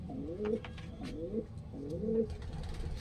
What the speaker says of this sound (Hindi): आज ये जोड़े वाले कबूतर लेके आए भाई। ये तीन जोड़े हैं और कुछ पट्टे हैं।